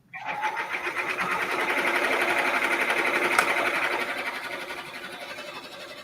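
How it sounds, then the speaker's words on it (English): Embroidery machine running, a fast continuous mechanical chatter and whir, close and steady for the whole stretch after a quick start. "press the go button, and it's going to start embroidering"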